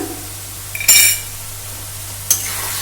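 A utensil stirs two teaspoons of sugar into a savory Bengali dish in a pan, with a couple of brief metallic scrapes and clinks over a quiet background hum.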